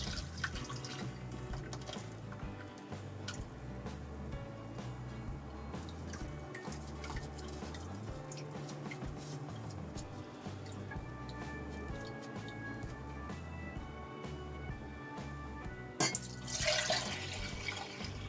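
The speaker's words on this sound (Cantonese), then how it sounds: "跟住倒出嚟隔咗啲渣啦。" Blended pandan juice is poured and strained, giving faint, continuous trickling and dripping of liquid with small splashes and a brief louder pour near the end.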